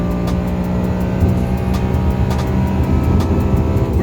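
A Lamborghini Gallardo accelerates at high speed, a loud, steady engine roar with dense wind and road rush throughout, heard from inside the car with no talking.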